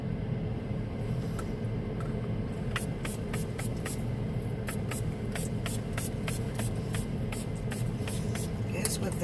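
An aerosol body spray hisses in a string of quick, sharp bursts, mostly in the second half, over a steady rumbling background with faint voices.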